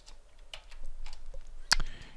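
Someone types on a computer keyboard while working in a code editor, producing a few sparse, faint key clicks and one sharper tap near the end, close to the microphone with no talking.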